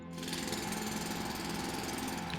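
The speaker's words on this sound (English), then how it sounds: "Drill all these." Continuous mechanical drilling rattle of a ore drill in the video game Foundry, a steady loud grinding hum with no pauses, no speech over it.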